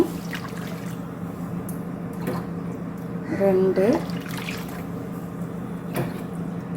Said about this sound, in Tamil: இப்போ இதே டம்ளரில் தண்ணி ஊற்றுறேன்